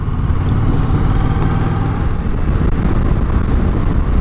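A Yamaha MT-07 Tracer motorcycle engine runs at a steady, fairly loud idle, a continuous low throbbing rumble with no change in pitch.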